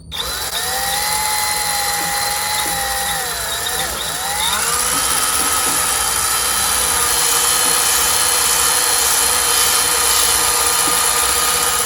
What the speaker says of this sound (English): I'm going to begin sanding.